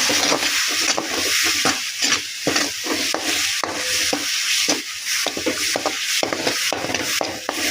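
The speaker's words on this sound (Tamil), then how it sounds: "அடுப்பை கொஞ்சம் குறைச்சிட்டு மெதுவாக கிண்டுங்க" Curry leaf pickle stirred slowly in oil over a low flame, a spatula scraping the pan in steady repeated strokes under a soft continuous sizzle, close and fairly loud with no talking.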